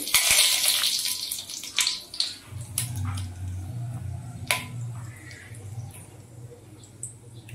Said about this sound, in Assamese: এতিয়া তেল নিশ্চয় গৰম হৈছে। এতিয়া কি দিব ইয়াতে? এতিয়া ইয়াত অলপমান পাঁচফোৰণ দিম, অলপমান তেজপাত দিলোঁ